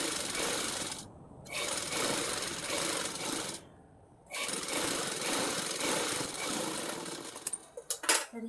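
A sewing machine stitches the curve of a blouse in loud, continuous runs, pausing briefly twice before a final burst of short, choppy stitching.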